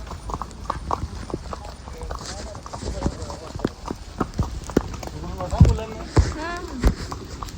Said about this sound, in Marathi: नंतरचे पॉइंट्स आम्ही घोड्यावरती बसून कवर केले